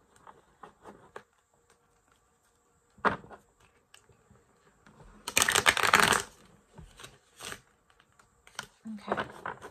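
Tarot cards being shuffled in a few quick, papery bursts, the longest and loudest near the middle, with brief shuffling taps between quiet gaps.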